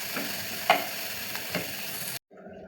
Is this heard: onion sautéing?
yes